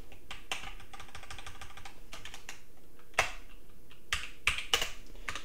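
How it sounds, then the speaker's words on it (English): Quiet, steady typing on a computer keyboard, rapid light keystrokes running throughout with a few sharper, louder key hits near the end; no voices. "And you type your answer right over here"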